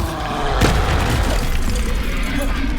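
A Bombarda spell explodes in Hogwarts Legacy with one sudden loud boom that decays into a rumbling tail, heard under a shouting voice.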